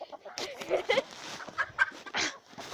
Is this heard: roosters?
yes